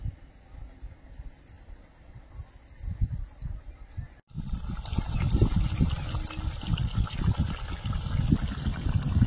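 Eggs dropped into boiling egg curry gravy, a bubbling, watery simmer that grows louder and busier midway after a brief sharp cut, close and steady with no talk.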